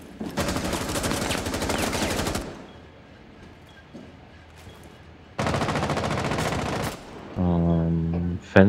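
Automatic gunfire in Rainbow Six Siege comes in two long, dense bursts, loud and close. A quieter stretch of faint shots and ambience lies between them, and a sustained tonal sound follows at the end.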